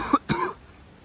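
A single close cough in two quick bursts, a short sharp catch followed by a fuller rough hack, then quiet room tone.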